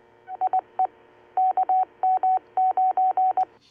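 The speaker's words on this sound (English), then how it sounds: "This is my AllStar node IDing itself." An AllStar radio node identifies itself on a repeater with a string of DTMF tones: short, clean beeps in two quick bursts, one brief group then a longer run of evenly spaced tones, clear and alone over faint radio hiss.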